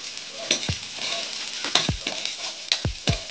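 Chicken, meat and liver go into a hot pan with a loud sizzle and crackle of frying, as several sharp clatters and knocks from stirring land in an irregular rhythm.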